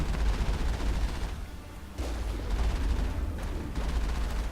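Heavy barrage of rockets and explosions in the video game Mass Effect, a dense, continuous loud rumble with repeated booming bursts, no talking.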